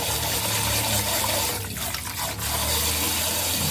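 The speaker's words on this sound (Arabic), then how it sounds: "انا دابا خويت عليه الماء حتى عومته بالماء" Water pours steadily over dates in a bowl, a continuous splashing fill that stays loud and even throughout, with no talk.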